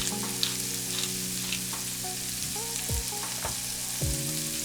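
Vegetables sautéing in a pot as the base for a gluten- and dairy-free chicken tortilla soup, a steady close sizzle with occasional stirring scrapes and clinks, no talking.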